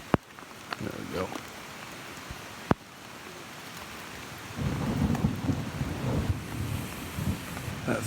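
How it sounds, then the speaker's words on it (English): Thunder rumbles and rain patters through woodland, with a sharp crack near the three-second mark and steady rainfall swelling louder in the second half, some wind buffeting the microphone. "That thunder spooks me a little bit."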